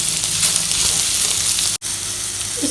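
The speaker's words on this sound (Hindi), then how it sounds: "अच्छी तरह से मिक्स करेंगे इसे और मिक्स करेंगे और मिक्स करेंगे" Rice being stirred in a hot pan with BBQ seasoning, a steady close sizzle and frying crackle running throughout, broken by one brief drop to silence partway through.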